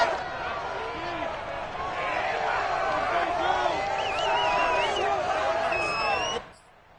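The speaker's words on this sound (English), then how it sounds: "as this crowd rises to make things difficult" Stadium crowd in the Madden 22 football video game rises in a loud, sustained roar with whistles and whoops during a two-point try for the win, then cuts off abruptly near the end.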